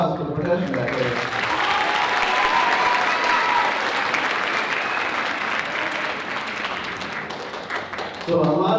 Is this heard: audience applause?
yes